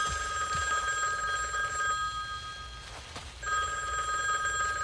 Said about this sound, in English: That is a payphone for those of you who have never seen one of those.